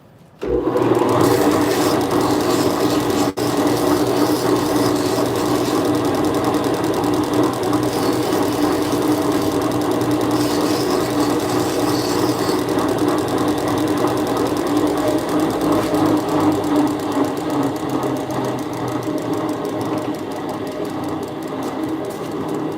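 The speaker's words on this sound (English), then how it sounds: "And then we'll come over here to the grinder." A bench grinder runs steadily and loudly for knife handle scales, a continuous motor whine with broad grinding texture holding level throughout, no speech.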